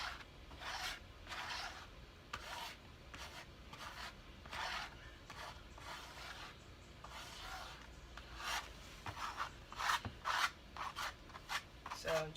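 Paste is spread along a canvas in soft, repeated rubbing and scraping strokes, faint and close, with an uneven rhythm of short swipes.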